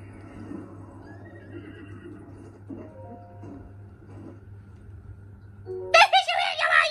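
A horse in Zelda: Breath of the Wild neighs in a bright whinny near the end, after quieter game sounds and faint tones in the background.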